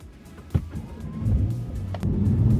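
A Mercedes E63 S AMG sedan pulls away, a low engine rumble swelling steadily with a sharp thump early on and building louder toward the end.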